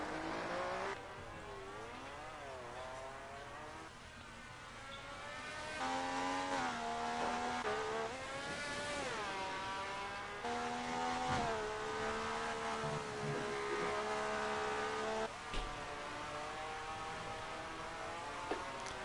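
Classic Formula One cars, a 1978 Lotus and a 1979 Ferrari, racing at Hockenheim, with high-pitched engines revving and shifting through gears, swelling louder as they pass and fading, several cars overlapping across the lap.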